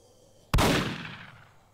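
A single sharp shot from a magic pistol aimed at a zombie in Roblox Apocalypse Rising, a sudden loud crack after a near-silent moment, trailing off in a short echoing decay.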